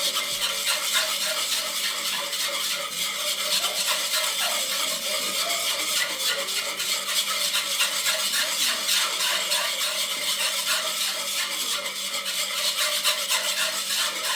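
A sauce for luxury mac and cheese being stirred in a pot, giving a steady close scraping and rubbing texture that runs unbroken and evenly loud throughout, with no talking over it.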